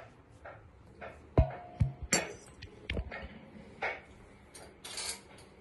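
A spoon clinks and taps against a dish while mixing custard powder into a little milk, with scattered sharp metallic knocks and scrapes in an irregular rhythm, close and fairly quiet.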